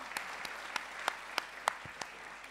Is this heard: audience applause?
yes